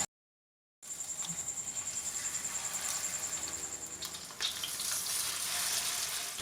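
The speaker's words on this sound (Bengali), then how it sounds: "এবার একটা একটা করে পনির নিয়ে তাওয়াতে দিলাম।" Paneer pieces fry on a hot tawa with a soft, constant sizzle that starts suddenly after a brief silence and keeps going at low volume.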